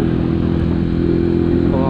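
Italika DT 125 delivery motorcycle engine droning steadily while riding, a loud, close, continuous low hum with no clear revs, a voice talking over it.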